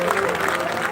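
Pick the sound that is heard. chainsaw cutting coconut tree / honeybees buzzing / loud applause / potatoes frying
loud applause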